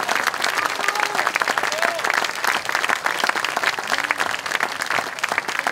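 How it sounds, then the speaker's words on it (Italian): A live audience at an August summer evening show claps in a dense, sustained round of applause, loud and continuous, with a voice faintly over it. "E adesso l'applauso continua per Umberta Conti."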